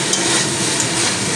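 Cauliflower sautéing with ground spices in a pan: dense, loud, continuous frying hiss with stirring underneath, brief and without speech.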